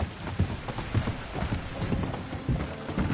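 Horse hooves clip-clopping in Red Dead Redemption 2, a steady rhythmic trot of close, soft thuds repeating about every half second with no talk over them.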